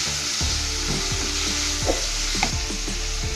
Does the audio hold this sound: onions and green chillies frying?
yes